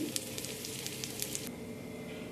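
Whole spices, including garam masala, cardamom, cloves, cinnamon, a dried chilli, cumin and asafoetida, sizzle faintly in hot oil with soft steady crackling and a few sharper pops.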